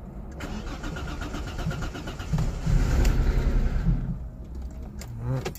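A 2002–2003 Audi A4 3.0 Cabriolet's engine cranks after a fuel pump replacement: a close, sustained churning starter rhythm that swells in the middle, then eases off.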